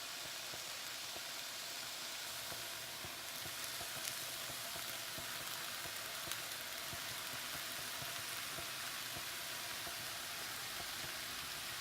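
Stir fry sauce sizzles with chicken in a hot pan, a continuous hissing crackle holding steady at an even level throughout, with no talk.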